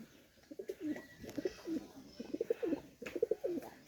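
A Pakistani teddy pigeon coos in repeated low, throaty phrases, several bursts of pulsing notes spread across the stretch, close and fairly quiet, with no talk.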